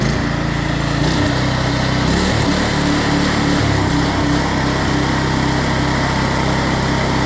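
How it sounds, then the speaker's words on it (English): Small engine running steadily after starting, with choke half in and throttle raised, a loud close continuous buzzing drone whose pitch shifts slightly early on, then holds even. "Now that it's started, you turn the choke in half and turn up the throttle."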